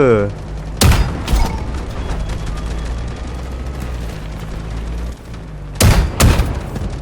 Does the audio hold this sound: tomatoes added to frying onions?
no